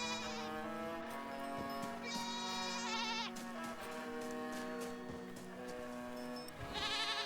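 Loud goat bleats from the video game REKA, several long wavering cries in a row, close and prominent over a steady musical game soundtrack with no talking.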